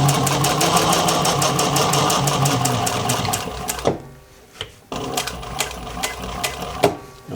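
A Juki 1541S industrial sewing machine stitches a 3/8 inch seam through automotive upholstery sew foam. It hums loud and steady at close range, then stops abruptly and gives way to quieter, intermittent running.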